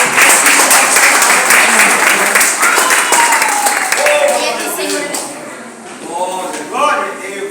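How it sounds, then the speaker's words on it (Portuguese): A church congregation applauding at an evening service, with dense, loud clapping that gradually thins while voices call out over it. "Dá uma salva de palmas para o Senhor."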